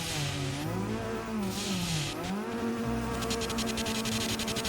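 A car spinning donuts in the racing game Assetto Corsa, its engine holding a high whining rev that rises and falls in looping waves, with bursts of tire screech and rasping exhaust throughout, loud and continuous.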